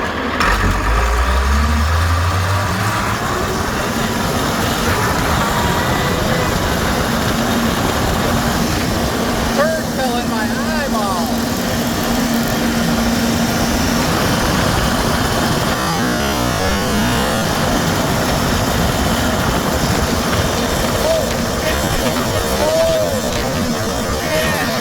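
An IH 1256 tractor engine runs steadily at close range on a test drive, a loud continuous diesel drone with a low rumble, and no talk over it.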